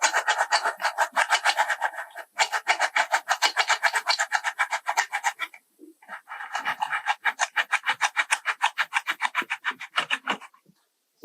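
A machine part is worked into slots on a CNC mill assembly with a back-and-forth jigsaw motion, giving rapid rhythmic rasping strokes in two bursts with a brief pause between.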